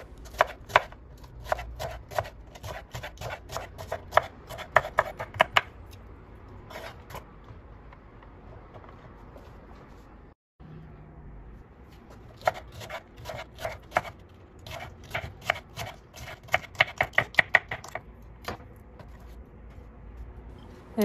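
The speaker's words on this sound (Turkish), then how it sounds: "kalan biberlerimi de küçük olacak şekilde doğruyorum." Peppers diced into small pieces with a knife on a cutting board, a rapid run of sharp, close knife taps in bursts, a brief pause midway, then steady chopping resumes.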